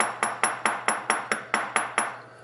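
A small hammer lightly tapping a pin tube into a metal watch bracelet, about ten quick, evenly spaced bright metallic ticks, close and crisp.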